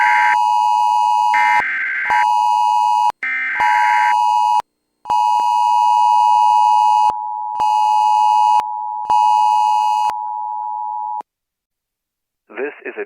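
NOAA Weather Radio All Hazards alert tone inside a Roblox severe weather game: a loud, steady electronic beep broken into several long bursts with short gaps, stopping after about eleven seconds, followed by a brief faint voice.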